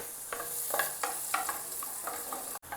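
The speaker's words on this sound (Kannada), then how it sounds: "ಎಣ್ಣೆ ಕಾದ ನಂತರ ನಾನು ಇಲ್ಲಿ ಒಂದು ಹೆಚ್ಚಿಟ್ಕೊಂಡಿರೋಂಥ ಈರುಳ್ಳಿನ ಸೇರಿಸ್ಕೊತಾ ಇದ್ದೀನಿ" Chopped onions dropped into hot oil for a mushroom peas curry, sizzling and crackling up close with a few bursts of spatula stirring, alone without speech.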